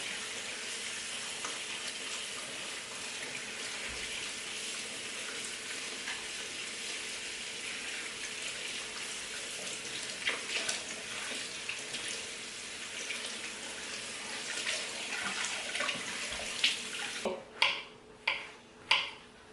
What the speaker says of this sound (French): Les champignons. Je vais les laver bien même.